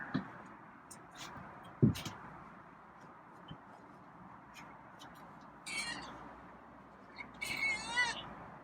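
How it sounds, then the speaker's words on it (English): Faint, high meows from a feral cat come twice from a quiet room, short and somewhat strained, with soft background noise and small knocks. "there's some meows"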